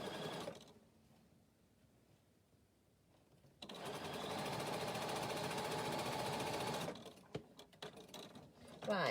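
Sewing machine stitching at a work desk, a quiet pause giving way to a sustained loud mechanical whirring run of several seconds, then stopping into scattered clicks and handling noises.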